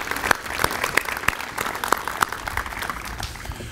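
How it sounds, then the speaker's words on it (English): An audience at a science center ribbon-cutting gives the trustees a round of applause. Sparse, fairly close individual claps punctuate a light, moderate patter from a modest crowd over a few seconds. "So if we could give them a round of applause for their efforts in this regard."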